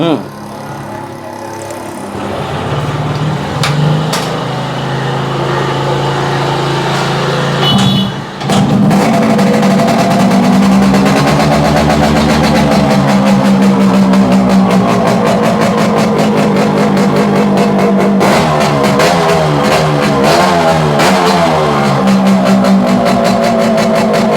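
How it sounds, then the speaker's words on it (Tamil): A fully restored 1999 Yamaha RX135 five-speed motorcycle starts up, then its engine idles and revs in rising and falling sweeps, loud and close, with people talking over it. "வண்டி ஸ்டார்ட் பண்ணி காமிச்சலாமா?"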